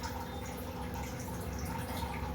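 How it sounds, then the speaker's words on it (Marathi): Boiled soybeans are squeezed by hand, letting water trickle and drip back into a vessel in a soft, continuous wet patter at close range. "इथं सोयाबीन उकडलेले आहेत ते पिळून घ्यायचे पाण्यातून काढून आणि ह्यात टाकायचे आहेत।"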